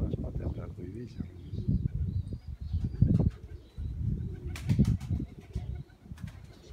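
Pigeons taking off with bursts of flapping wings amid outdoor wind and soft cooing, fairly quiet and close, with someone talking over them.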